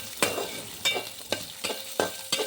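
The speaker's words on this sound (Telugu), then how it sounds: "శనగపప్పు, జీలకర్ర, వెల్లుల్లి ఫ్రై చేసుకుందాం." Chana dal, cumin and garlic frying in oil, with a low sizzle broken by five sharp, evenly spaced scrapes of a spoon stirring the pan.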